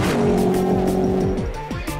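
A Ford Mustang with a supercharged 5.8-litre V8 making 650 horsepower drives hard, its engine droning loud and close with rising and falling pitch as it shifts, alone without talk.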